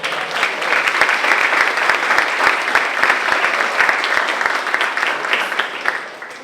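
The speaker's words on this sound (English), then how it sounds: "how about just a little round of applause for the YMCA?" A room of people applauds the YMCA, steady clapping with many sharp individual claps, full and close, sustained for several seconds before tapering slightly at the end.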